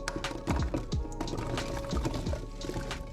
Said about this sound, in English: now we're gonna put our potatoes in this pot